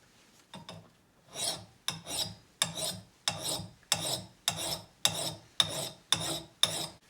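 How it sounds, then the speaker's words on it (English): A hand file rasps along a steel axe blade in about ten rhythmic, evenly spaced strokes, each a close, gritty scrape as metal is taken off the edge. "now what it's doing is it's removing material to make the axe sharper"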